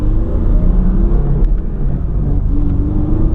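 A 2002 V6 Mustang engine is held at full throttle, giving a steady, loud, close rumbling drone that keeps a constant level throughout with no voices.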